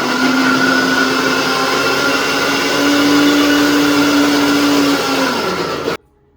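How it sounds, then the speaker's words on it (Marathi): An electric mixer grinder grinds soaked wheat to extract wheat milk, with a loud, steady, close motor whir that holds for about six seconds and then cuts off abruptly. "चीक आता आम्ही मिक्सरमध्येच काढतोय"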